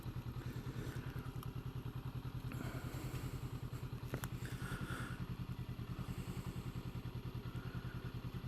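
A Honda Hornet motorcycle goes by on a closed road, its engine a steady pulsing throb that holds fairly loud and even throughout, with faint clatter and thuds mixed in and no talking.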